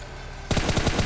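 Automatic gunfire in PUBG Mobile: a brief quiet lull, then a loud, close, rapid burst of repeated shots that runs to the end, with no voices.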